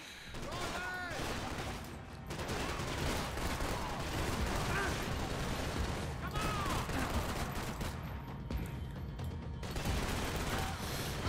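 Dense gunfire in the video game Max Payne 3, with rapid bursts and single shots crackling almost nonstop for over ten seconds, loud and close, with short gaps and mechanical clatter between volleys.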